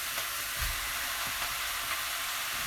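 Sausage balls fry in a pan with a dense, even hiss of sizzling fat and a few faint low knocks, steady and close with no voices.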